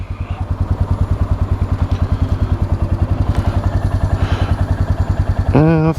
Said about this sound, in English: a very, very, very familiar sound for me from that single cylinder thumper